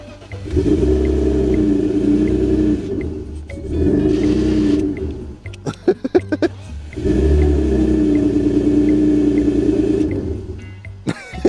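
A BMW E39 engine runs after being started with a fitted push-button, rumbling steadily up close, then cutting out with a flurry of clicks and knocks before catching and idling again.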